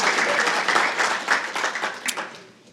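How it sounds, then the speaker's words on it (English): An audience at a college athletics hall of fame induction ceremony claps in a burst of applause that rings through the hall, then gradually thins out and fades. "just a round of applause to the greats and those that will be inducted tonight"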